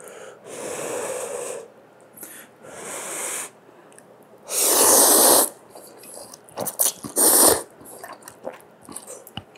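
Someone eats Shin ramen and chapaghetti with kimchi, with close, loud slurping bursts of noodles in several separate pulls, plus quieter chewing and clicking between them, without talk.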